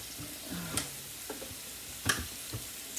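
Ham steak sizzling in a pan with butter and juice, a steady frying hiss broken by a few sharp clicks and pops of stirring or shifting, close and moderately loud with no talking.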